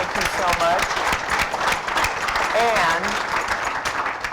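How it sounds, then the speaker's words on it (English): A conference audience applauds panelists after an innovation dialogue, a dense, even wash of clapping that holds steady throughout, with a voice speaking over it. "I want to thank the panelists and give you a round of applause."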